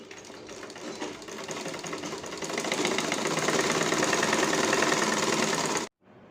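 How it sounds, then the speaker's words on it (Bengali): A sewing machine stitches a double seam on a bra, running a loud, close, rapid mechanical whir that builds steadily for about six seconds and then stops abruptly, with no talking. "ঘুরিয়ে ডবল করে সেলাইটা দিয়ে দেব।"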